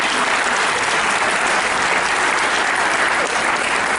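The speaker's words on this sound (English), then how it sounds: "Give him a round of applause, please." Loud, dense applause from a full audience for comedian Pablo De Leon at a pastor's retirement roast, a steady wash of clapping that holds for the whole stretch without any voice on top.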